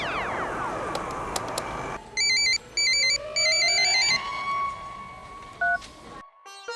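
A telephone is dialed with a quick series of tone beeps, followed by short ringing tones, set against a film scene with a falling whoosh and a rising tone beforehand.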